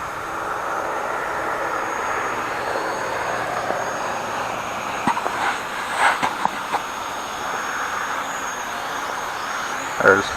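A Hubsan X4 Desire H502S quadcopter's small electric motors whine steadily at full forward throttle, a constant high buzzing that holds throughout, with a few short clicks and bumps near the end.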